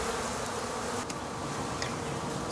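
Honey bees humming densely around a hive that swarmed days earlier, a soft, continuous buzzing drone heard close and alone.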